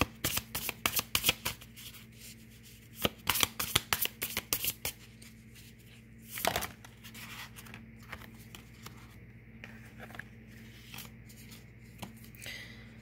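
Tarot cards shuffled by hand in close, crisp bursts of riffling clicks, several quick rounds followed by softer scattered flicks and handling noise against a faint steady hum.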